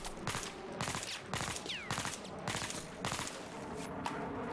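Short bursts of suppressed fire from an AS VAL rifle in Battlefield 4, five clipped three-to-four round volleys at a steady rhythm, each snappy crack group separated by brief pauses.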